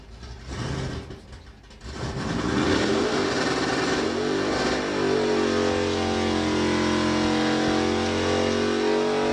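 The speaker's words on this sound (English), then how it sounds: "Ah, the noisy bugger. Yes, of course, the VW Beetle." A VW Beetle drag car at Santa Pod accelerating down the strip, its engine roaring loud and rising in pitch with a brief dip near the start before a sustained high-revving run.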